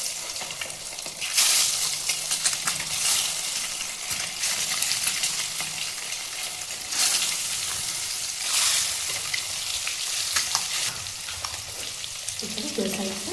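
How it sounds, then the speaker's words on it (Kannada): Boiled egg pieces fry in hot oil for an egg curry, giving a steady, close sizzle and crackle with occasional stirring scrapes throughout. "ಅದನ್ನು ಆಯಿಲಿಗೆ ಹಾಕ್ಕೊಂಡು ಫ್ರೈ ಮಾಡ್ಕೊಬೇಕು"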